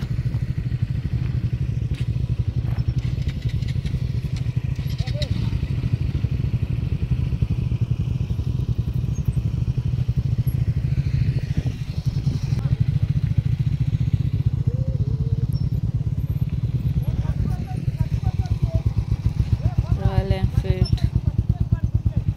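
Motorcycles, some carrying two riders, ride slowly down a slippery off-road trail at Patla Betta near Pushpagiri. Engines drone steadily and close by throughout, with occasional clatter and thuds, and voices are heard in the background.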